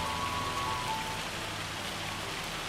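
Hail pours down steadily in a farming video game, a dense even hiss of falling pellets with no break and no speech.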